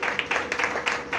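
A church congregation claps together for Jesus, steady rhythmic hand claps from a group at a regular beat, loud and close in a brief burst.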